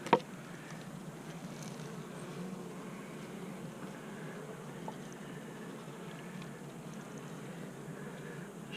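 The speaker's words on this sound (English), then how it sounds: "There's quite a few bees in here." Bees buzzing inside an open hive, a soft continuous drone close by, with a faint knock at the start and no voices.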